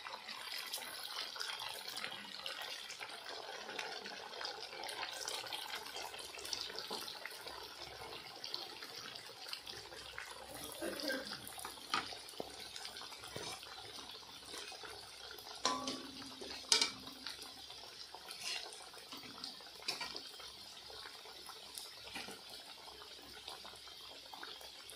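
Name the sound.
jalebi sweets frying in oil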